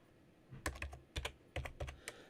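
Numbers tapped into a calculator or keyboard during a physics energy calculation: several clusters of close, distinct key presses in an uneven rhythm, each tap with a soft thump.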